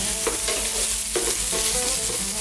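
Onions fry in a little olive oil in a pan, a steady close sizzle with a few soft scrapes and stirring clatters over a constant low hum, no talk.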